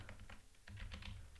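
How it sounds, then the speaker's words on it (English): Rapid clicking of keys on a computer keyboard as someone types into a terminal window, close and fairly quiet, in short irregular bursts with a brief pause midway. "open up a terminal window on your computer and type in"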